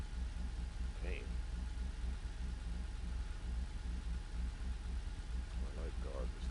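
A car engine idles steadily in GTA V, a low, even rumble that holds throughout at a moderate distance. A voice speaks briefly over it.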